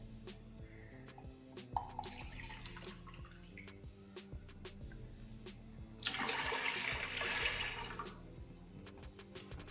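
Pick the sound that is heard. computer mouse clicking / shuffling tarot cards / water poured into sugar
water poured into sugar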